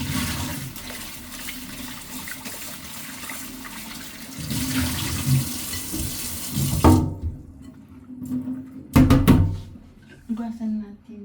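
Tap water runs into a sink as something is rinsed under a drinking-water faucet, a steady splashing stream with brief louder gushes and pauses, while people talk nearby.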